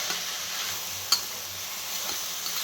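Carrot halwa being sautéed in a pan gives a soft, steady sizzle with a single sharp scrape or tap partway through, heard alone at a moderate level.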